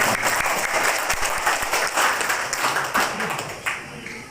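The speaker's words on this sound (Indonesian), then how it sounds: "tepuk tangan dulu buat" Applause from a crowd gathered for the drawing of candidate numbers in a village head election, a steady dense patter of clapping that holds throughout with scattered sharper claps.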